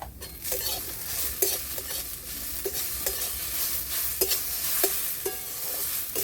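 A spoon stirs mashed masoor dal with turmeric and salt in a pan, a soft sizzle underneath and regular sharp clicks of the utensil against the pan, close up with no talk.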